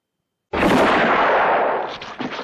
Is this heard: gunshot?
yes